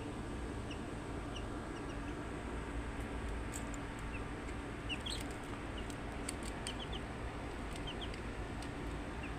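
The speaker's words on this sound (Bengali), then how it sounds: "যেগুলো পাখা বড় হয়ে গেছে এগুলো সাধারণ পাহাড়ি মুরগি" Hill chickens (pahari murgi), some still unfledged, clucking softly in a new cage, scattered faint calls over a steady low background hum with no talking.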